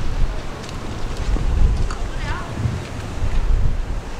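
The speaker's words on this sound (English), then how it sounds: "It's a little bit windy today" Wind gusting outdoors at a remembrance gathering in Japantown, San Francisco, a loud continuous rumble buffeting the microphone with rising and falling gusts, faint background voices underneath.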